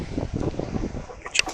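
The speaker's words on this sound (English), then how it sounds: "It's a little windy out today." Wind buffets a microphone outdoors beside a 1999-2004 Jeep Grand Cherokee, producing low, uneven rumbling gusts that rise and fall, with a brief brighter crackle near the end.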